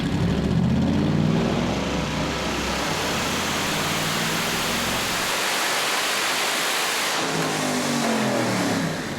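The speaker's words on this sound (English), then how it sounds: "the C10 is up on the chassis dyno. Now this is the time for Alex to adjust tuning for wide open throttle" A 1971 Chevy C10 with a swapped LT1 engine roars at wide open throttle on a chassis dyno, a loud, steady, rising engine blast mixed with heavy roller and fan rush that holds for the full run.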